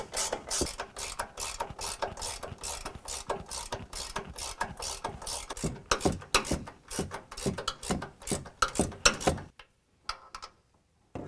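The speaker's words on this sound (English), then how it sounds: "tighten up the factory hardware at the top to 35 foot-pounds" A ratchet tightens factory suspension hardware on a 2021 Ford F-150 during a leveling kit install: close, rapid, evenly repeated clicking strokes that run steadily for about nine seconds, then stop, with no talking.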